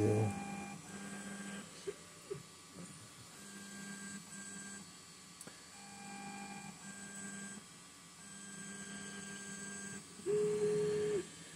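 Wizmaker P1 3D printer auto-leveling its bed, quiet stepper motors whining in short tonal bursts and pauses as the probe moves, with a louder sustained motor tone near the end.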